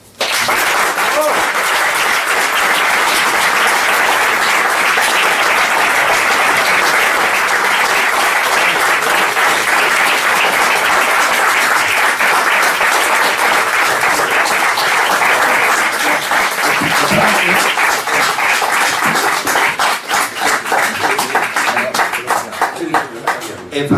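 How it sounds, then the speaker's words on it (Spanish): Sustained audience applause follows a speech at a Falange Española talk, dense and loud throughout, thinning into more distinct individual claps near the end. "los aplausos están prohibidos"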